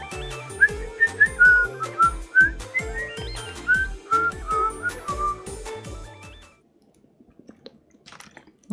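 A person whistles a rapid string of short, wavering notes for several seconds, close up, then stops, leaving faint clicks and near silence.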